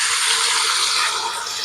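Protein frying in hot palm oil over a gas flame, a loud, steady broadband sizzle that stays constant throughout with no talking.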